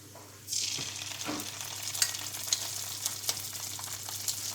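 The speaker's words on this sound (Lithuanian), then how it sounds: "Česnakas gražiai skrunda." Garlic sizzles in hot oil in a pan, starting suddenly and continuing as a steady crackling fry with occasional louder pops and no voices.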